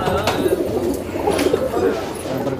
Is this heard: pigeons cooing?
yes